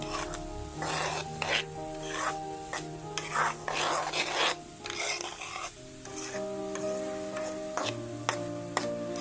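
Semolina roasting in ghee on a slow flame for panjiri, stirred with a spoon: repeated gritty scraping strokes over a gentle sizzle, close and clear, with a steady tonal hum underneath.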